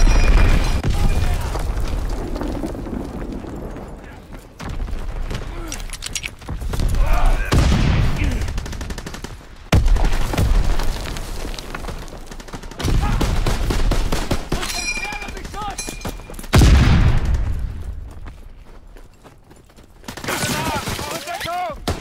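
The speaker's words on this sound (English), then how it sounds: "Enemy bomb incoming." Call of Duty WW2 multiplayer fills with repeated loud bomb blasts and bursts of gunfire, heavy booms recurring every few seconds among rattling shots, with game voice announcements in between.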